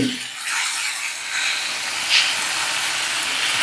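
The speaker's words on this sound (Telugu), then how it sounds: "మంచిగా ఫ్రై అవుతున్నాయి" Ivy gourd (tindora) pieces frying in a pan on the stove, giving a steady, close, broadband sizzle and hiss that runs throughout with no talking.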